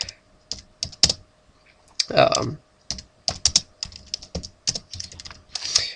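Keys clatter on a computer keyboard in irregular bursts of close, crisp taps, with a short stretch of speech breaking in partway through.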